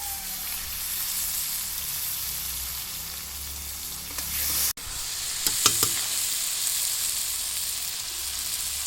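Chopped onion and tomato hit hot oil in a pan for tilapia curry, giving a steady, close sizzle that runs throughout, with a sudden sharper burst and stirring clatter partway through.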